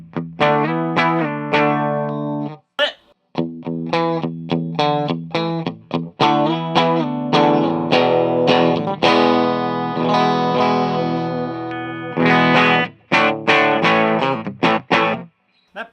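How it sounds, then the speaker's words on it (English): A 2019 Gibson Les Paul Modern Faded electric guitar on its bridge pickup plays through distortion, with punchy chords and bursts of notes separated by short stops, loud and close, with no talking. "And then your bridge pickup. You've got just regular and split."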